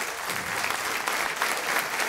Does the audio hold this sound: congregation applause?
yes